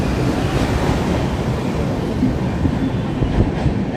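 A passenger train rolls across the Farakka Bridge, a steady rumbling roar of wheels and wind heard from inside, with no talk over the continuous rush.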